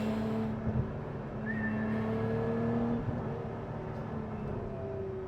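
A Lotus Emira sports car engine hums steadily with its pitch sliding up and down as it revs, a continuous close drone with no talking.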